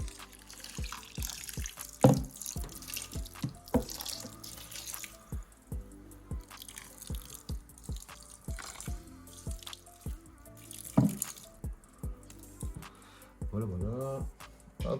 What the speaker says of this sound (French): je vais de nouveau arroser un petit peu